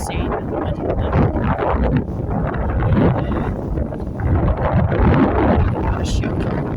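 Strong wind buffets the microphone along a sandy lake front, a steady loud rumble with gusts that rises and falls throughout.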